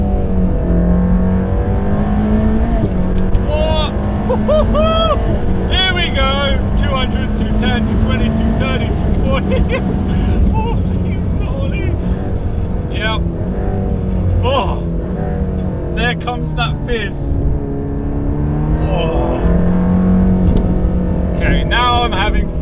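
Inside the cabin of a 2021 Mercedes AMG GT Black Series on a drive, the engine roars loudly and continuously with rising and falling revs and gear changes, while someone talks excitedly over it.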